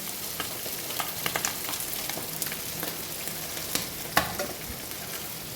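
Fish roe frying in a pan, a close, continuous crackling sizzle with sharp pops and the occasional scrape of a stirring utensil, no voices.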